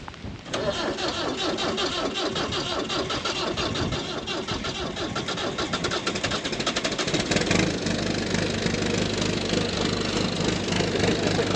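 An old engine cranks over, catches and roars to life, then settles into a loud, steady, rhythmic idle that runs to the end with no talking.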